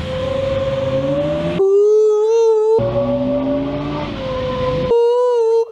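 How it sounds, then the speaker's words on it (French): A drift car gives off a loud, owl-like hooting whistle, a sustained tonal note that bends in pitch, heard in two long drawn-out passes with brief shifts between them. "La voiture elle fait un bruit de hibou."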